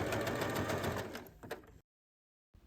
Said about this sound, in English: do another top stitching 1/2 centimeter from the previous top stitching